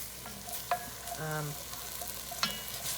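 Ground garlic and onion fry in a pot with a soft, steady sizzle. A few quiet stirring clinks and scrapes sound close by, with no talk.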